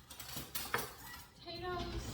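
A metal spoon clinks against dishes a few times in a home kitchen while shepherd's pie with cheddar mashed potatoes is being served, short bright taps close by, with faint talk around them.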